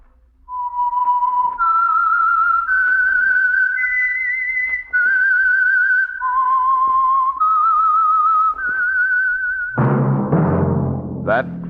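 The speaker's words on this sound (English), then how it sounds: "That whistle is your signal for the signal oil program, The Whistler" A clear human whistle carries the theme of The Whistler, an old-time CBS radio mystery program, in a slow series of sustained, wavering notes stepping up and down, alone and close, before a voice begins speaking.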